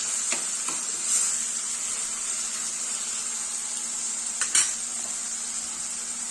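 Tomato and capsicum sauté in a pan for matar paneer bhurji, a steady soft sizzle running throughout with a few brief scrapes of a spatula stirring near the start and again toward the end.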